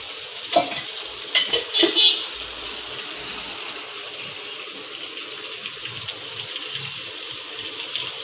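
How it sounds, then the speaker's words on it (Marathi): Bangda (mackerel) fish frying in oil in a home kitchen: a steady, close sizzling hiss throughout, with a few clinks and stirring knocks near the start and no talking. "अशाच पद्धतीत आपण सगळं मच्छी तळून घेऊया."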